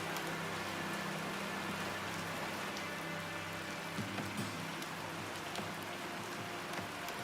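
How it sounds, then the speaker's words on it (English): Rain pours steadily in the Patron city-building video game, a soft, even hiss of drops spattering on surfaces that stays constant and faint throughout, with no talking. "Oh, it's raining."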